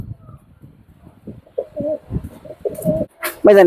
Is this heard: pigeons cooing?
yes